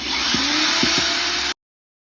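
A power drill bores a hole through a sheet-metal furnace duct, a loud, steady whirring grind that runs close and unbroken for about a second and a half before stopping abruptly.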